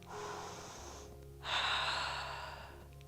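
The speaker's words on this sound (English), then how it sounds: "take a deep breath" A deep breath drawn during a strengthening yoga flow, held in a warrior two pose: a soft, airy inhale followed after a short pause by a louder, fuller exhale, close and alone without talk.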